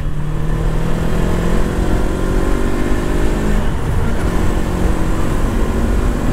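A Yamaha R3 motorcycle accelerates on a highway with a loud, rising engine whine that climbs steadily in pitch under heavy wind rush and continues throughout.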